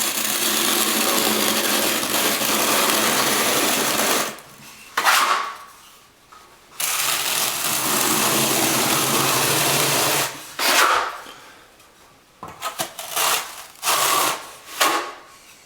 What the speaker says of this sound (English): Now I'm going to spread the mortar on the subfloor with my notch trowel.